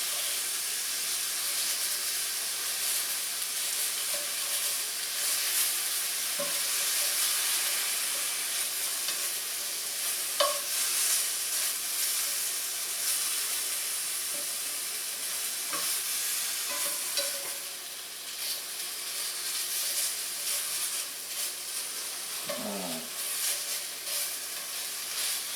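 Shaved rib eye sizzles steadily on a hot griddle for a Philly-style sub, with a steel scraper clanking and scraping as it chops the meat in a few distinct strokes, close and fairly loud.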